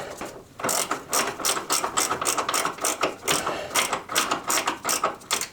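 A ratchet snugs up an engine mount bolt on a Jeep Cherokee XJ, giving a loud, close series of rapid clicking bursts in quick back-and-forth strokes, repeated steadily with brief pauses between swings.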